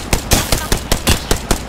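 Rapid gunfire from a weapon in Apex Legends: about ten sharp, loud, evenly spaced shots in under two seconds, close and alone.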